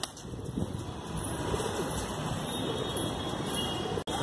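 Desi high flyer pigeons kept in Dombivali, Mumbai give low, steady coos against a constant high whine, with a brief dropout near the end.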